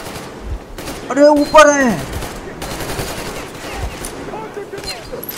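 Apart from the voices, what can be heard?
gunfire in the video game Metro Exodus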